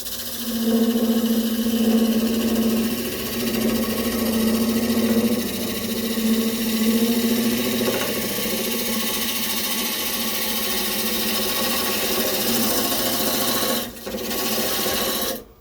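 Maple stock spinning on a wood lathe under a skew chisel's planing cut gives a steady, close rasping hiss with a low droning hum beneath, running continuously with a brief dip near the end.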